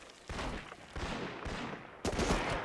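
Gunfire in a PlayStation 2 shooting game, with bursts of rapid shots coming in a few separate bursts, each fairly loud and close and ringing out between short pauses.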